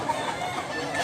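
Chickens at a poultry market in Mantalungon, Cebu, with a rooster's crow rising over steady clucking and yard noise, close and moderately loud, partly under someone speaking.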